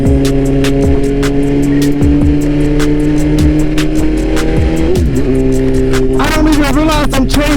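A BMW engine roars loud and close during a ride, revving up and dropping repeatedly as gears change smoothly in quick succession, with a rising whine near the end.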